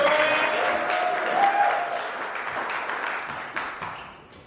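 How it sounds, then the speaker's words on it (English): Wedding guests applaud the best man, a loud, dense wash of clapping throughout that tapers slightly at the close. "Everyone give Ryan a round of applause"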